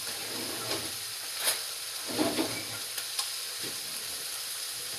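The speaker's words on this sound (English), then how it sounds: "we are going to add the margarine" Margarine sizzles and hisses steadily in a hot pan at close range, with a few soft clicks and scrapes rising above the constant frying noise.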